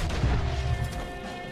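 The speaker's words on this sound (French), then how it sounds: "oh, j'entends des coups de feu" Heavy gunfire booms in Red Dead Redemption 2, a dense rumbling burst of loud, low shots and crashes with music-like tones underneath, no talk over it.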